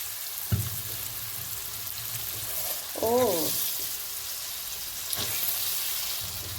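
Green beans added to a frying pan with turmeric, giving a steady close frying sizzle with a thump as they land and a brief scrape of stirring partway through, no talk.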